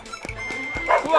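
A dog gives several short, sharp yips and barks in quick succession indoors, close by, with a voice speaking over the later part.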